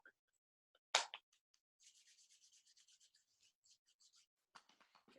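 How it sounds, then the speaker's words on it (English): Hands rub together and pat along the arms, a faint, close series of soft brushing strokes and taps with a sharper swipe near the start and short rhythmic scrubs after. "like rub your hands together, rub your hands on your arms, or you can pat if that feels better than rubbing"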